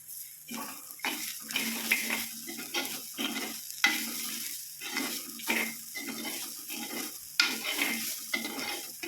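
Bitter gourd stir-fried with grated coconut in a pan, bursts of crackling sizzle separated by short gaps as the pieces are tossed and stirred, close but fairly soft, without speech.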